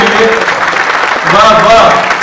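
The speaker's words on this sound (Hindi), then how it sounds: "जोरदार ताली इस शेर पर" Applause from the audience at a Hindi-Urdu poetry recital, a sustained clatter of clapping that fills the whole short stretch, with voices mixed in.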